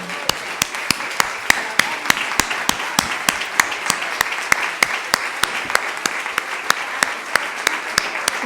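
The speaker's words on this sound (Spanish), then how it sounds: "Vamos a darle un aplauso a ese Espíritu Santo." Congregation at an anticipated Pentecost Mass clapping in a steady, rhythmic unison beat, sharp regular claps repeating about every third of a second over a softer wash of scattered clapping.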